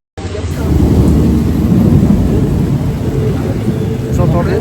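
Loud thunder rumbles steadily through a heavy downpour in the Amazon jungle, a deep continuous roll with dense rain hiss close by, sustained for several seconds with no voices.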